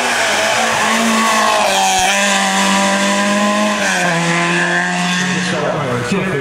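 A historic V6 race car revs hard at the Turckheim hill climb, a loud, close, continuous engine howl climbing in pitch through the gears.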